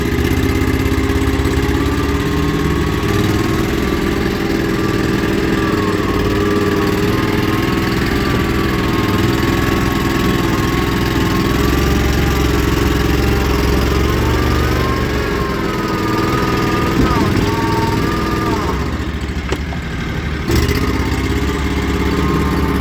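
An Argo off-road vehicle's engine drones loud and steady at close range while it backs up a few feet in the woods, with a brief dip in the sound near the end.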